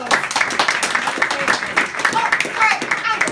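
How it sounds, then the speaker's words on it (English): Audience applause at a business club evening event, steady dense clapping from many hands throughout, with voices talking over it. "And applause."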